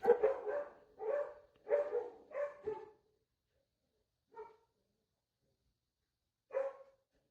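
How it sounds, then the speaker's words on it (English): A dog barks in a quick burst of several barks near the mic, then falls quiet, with one more single bark and a final bark after longer pauses. "the dog is wild and crazy and never stops pacing and barks all the time"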